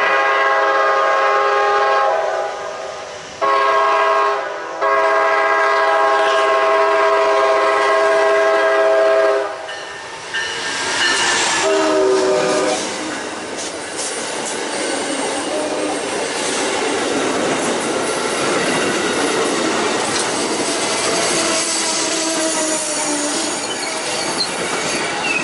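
A train passes on track one at Selma Smithfield station, and its horn sounds loud in long blasts over the first ten seconds. A broad rumble and wheel noise follow, continuing steadily to the end.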